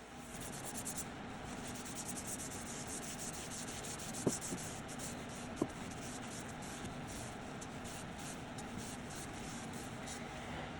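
A first coat of oil finish is worked by hand into a claro walnut board with soft, continuous rubbing strokes, a faint close swishing texture with two small knocks partway through.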